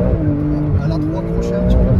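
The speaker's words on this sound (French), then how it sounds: "Tu vois, on entend bien aussi les turbos." A Porsche engine pulls under acceleration, a steady loud drone with a rising whine layered on top, heard from inside the car.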